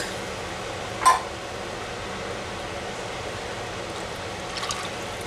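Two cans of evaporated milk pour steadily into a butter-and-flour roux for an Amish chicken spaghetti casserole, giving a continuous soft wash of liquid with one brief splash or clink near the start.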